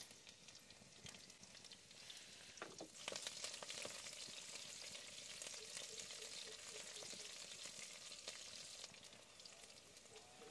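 Chopped onions and green chillies fry in hot oil in a kadai for paneer fried rice, a close, steady crackling sizzle with occasional stirring scrapes and no talk.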